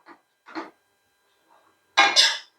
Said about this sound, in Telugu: ఇప్పుడు ఇలాగా చిత్రాన్నం అంతా కలిపేసుకుందాము